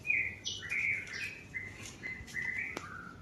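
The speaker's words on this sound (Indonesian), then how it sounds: "Yang di ujung sana juga murai ya" A white-rumped shama (murai batu) sings a string of clear, varied whistled phrases, bright and fairly close, with faint chirps from other birds behind it and no talking.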